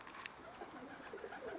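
Pigeons coo softly in the background, low, throaty murmurs that blend together over a faint, constant hiss.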